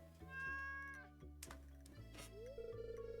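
A cat meows in the Stardew Valley farming game, tonal calls rising and falling over a steady musical background, fairly quiet and close.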